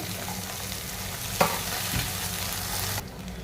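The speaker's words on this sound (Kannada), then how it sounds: "ಈರುಳ್ಳಿ ಹಾಕ್ತಿದ್ದೀನಿ ಒಗ್ಗರಣೆಗೆ" Onions sizzle and crackle steadily in a hot oil spice tempering, with a brief clatter of stirring partway through and the frying continuing close by without any talk.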